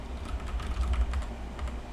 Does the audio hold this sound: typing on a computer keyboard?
yes